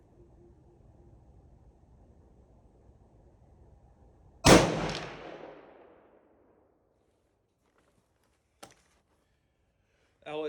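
A single loud rifle shot from a .338-06 Improved loaded with 54 grains of powder at a shooting range, a sharp crack followed by a rolling echo that fades over about two seconds, then a faint click and near silence.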